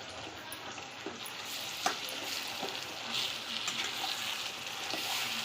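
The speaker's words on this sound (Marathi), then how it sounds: "आणि हे तेलामध्ये चांगलं भाजलं पाहिजे." Ground dal and green chillies fry in hot oil with onion, a steady close sizzle and crackle with faint stirring scrapes throughout, no voices.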